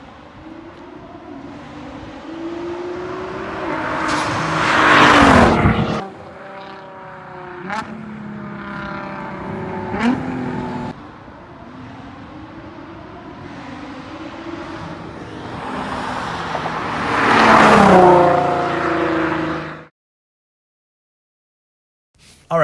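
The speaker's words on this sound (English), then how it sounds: "big thanks to Leon for letting me drive his car." A fast car's engine revs hard and accelerates up through the gears in rising, whining sweeps, with two loud, close surges, and the drive ends in sudden silence.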